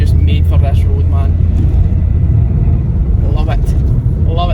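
Steady low rumble of a car driving along a winding Scottish road near Wanlockhead, heard from inside with loud constant engine and road noise while someone talks intermittently over it.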